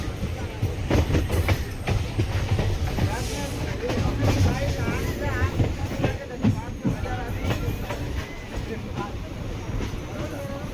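A weekly express train from Rameswaram to Hubli, in southern India, rumbles along the rails with steady rolling noise and rhythmic wheel clatter, heard from on board at close range while a voice talks over it.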